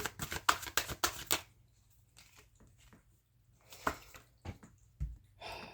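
Tarot cards riffle and shuffle in a quick burst of dense, papery flicks for about a second and a half, followed by scattered softer card taps and slides in a quiet room.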